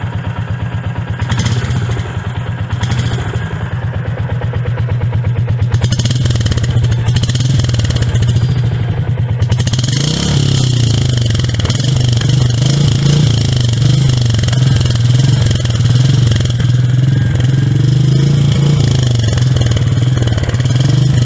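A Royal Enfield Meteor 350 with its catalytic converter removed thumps steadily, loud and close, its open exhaust settling into a sustained running note after a few uneven throttle changes early on.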